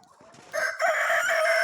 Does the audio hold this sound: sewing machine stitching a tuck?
no